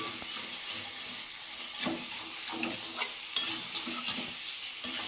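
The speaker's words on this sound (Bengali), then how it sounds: "মাংসটা দিয়ে এবার দেখি তেল ছাড়ছে" Pieces of meat fry in oil in a pan, giving a steady hiss and sizzle broken by soft spatula scrapes and occasional sharp pops.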